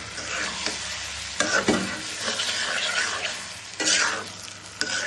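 Garlic fries in a pan for garlic pickle while it is stirred and turned, a steady sizzle punctuated by several louder scrapes and knocks of the utensil against the pan.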